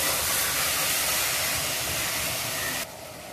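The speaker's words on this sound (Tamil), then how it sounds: "அத வந்து இப்போ இத ஆட் பண்ணிக்கிறேன் இது நல்லா நம்ம இந்த ஆயில்ல கொஞ்சம் ஃப்ரை பண்ணிக்கலாம்" Marinated mutton sizzling in hot oil, a steady loud broadband hiss of frying that continues throughout and drops slightly in level at the end.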